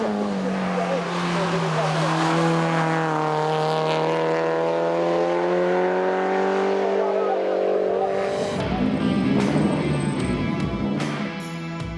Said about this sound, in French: le pilote de la 205 GTI Groupe A, Anthony Blanchot.